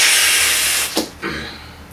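Mocha brown modelling balloon filled by a hand pump, a loud close rushing hiss of air for about a second, then short squeaky pumping strokes as the balloon stretches.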